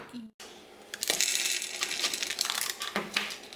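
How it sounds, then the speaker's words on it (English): Roasted peanuts being lightly crushed on a plate, a run of crunchy cracking and scraping taps that starts after a brief pause and continues steadily, close and fairly loud. "We just wanna lightly crush it."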